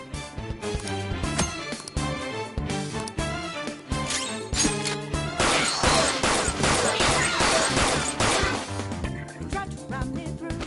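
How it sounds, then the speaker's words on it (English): Rapid bursts of gunfire in the video game Persona 5 Royal, loud, dense cracks and smashes over a backing music track, building into a sustained barrage of shots midway. "Point it at a shadow and fire."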